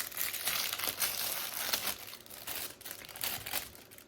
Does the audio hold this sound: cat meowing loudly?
no